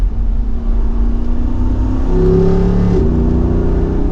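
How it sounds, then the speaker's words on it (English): A 2024 Jeep Wrangler Rubicon 392 V8 revs up with its exhaust valve open, a deep, throaty roar, the pitch climbing steadily as it accelerates close by. "that is a very loud exhaust with it in the on position"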